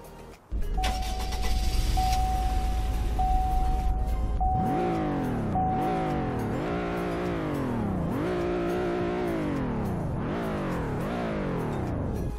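Engine of the Suburban LS extended SUV in the Roblox game Greenville starts with a loud idle, then revs repeatedly in rising sweeps with gear-shift drops, steady and close throughout.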